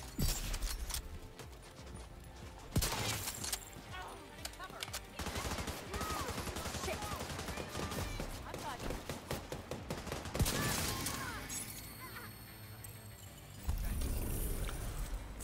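Deployed turret in The Division 2 firing rapid bursts in a combat scene, with loud volleys and sharp bangs recurring throughout over dense battle noise.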